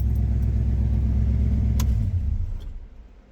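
A beater V8 with a 4-speed idles at light load, a steady low rumble close to the mic that eases off slightly toward the end, with a brief sharp click partway through.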